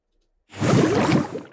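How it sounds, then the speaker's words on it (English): A magical water spell projectile effect, a single surging watery whoosh that swells quickly and fades over about a second, heard alone. "Let's audition a few spells. Strike."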